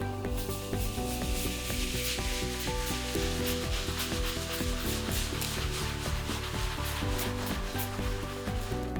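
A steady, continuous scrubbing sound, agitating cleaner on a Polytek floor with brisk back-and-forth strokes repeating without pause, close and fairly loud with a faint mechanical hum underneath.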